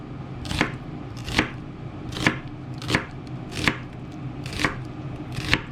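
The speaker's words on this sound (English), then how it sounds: "Got just a cucumber that I peeled, and a good ripe tomato. I'm just going to cut these up" A knife chops peeled cucumber and ripe tomato on a board in seven evenly spaced, crisp cuts about a second apart, close and clear with no talking.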